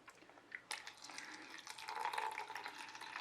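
Water poured into a container on a scale, measured out to about 25 grams for mixing resin casting material; a steady trickling pour starts after a short quiet moment and continues close by.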